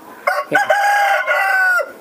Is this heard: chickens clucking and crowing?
yes